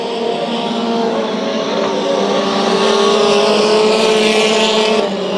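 Mini stock race cars at Bakersfield Speedway, a pack of engines roaring steadily and loudly together as they battle around the track, with no talk over the sustained drone.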